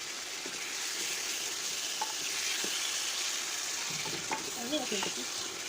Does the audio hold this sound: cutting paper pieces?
no